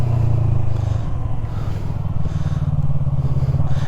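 A Yamaha MT03 motorcycle engine rumbles loud and close during wheelie practice. The low throbbing idle rises into a revving pulse with a slight clatter, and there is no talking.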